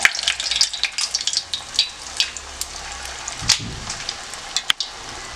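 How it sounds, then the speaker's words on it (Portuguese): Homemade churros fry in hot oil in a pan with a steady close sizzle, dotted with sharp crackles and pops throughout, and no voices. "Agora eu vou tá fritando eles, tá?"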